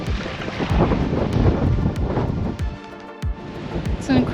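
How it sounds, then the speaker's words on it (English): Strong wind on a beach on Ikaria in Greece buffets the microphone with loud, low roaring gusts over the sea, dropping briefly into a lull before surging again. "It's an incredibly windy day"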